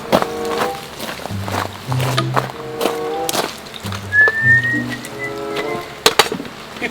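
A person gives one short, bright whistle with a rising glide. It comes during outdoor wood-fire cooking, amid clattering, knocks and scattered tapping.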